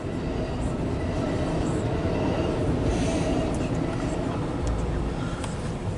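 An Amtrak passenger train, running more than four hours late, rolls past as a steady, continuous rumble and wheel noise at moderate level, with no clear approach or fade within the stretch.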